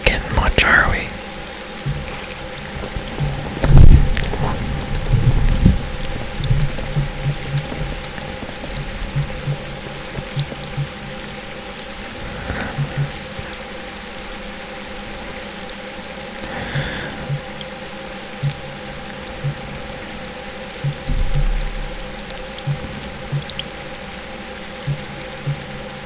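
Steady rain falls through a night scene in the fishing video game Fishing Planet, a soft continuous hiss with occasional brief drip-like ticks and bumps, quiet whispering voices drifting over it at times.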